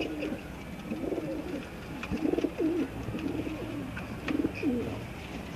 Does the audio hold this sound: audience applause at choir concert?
no